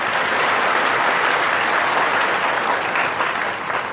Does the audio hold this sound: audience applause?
yes